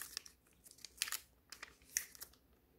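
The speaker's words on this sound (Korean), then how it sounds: "처음부터 끝까지 이렇게 반으로 접어줍니다" Colored paper folded in half by hand, with a series of crisp, close crinkles and sharp creasing snaps spread unevenly across the moment, quiet overall.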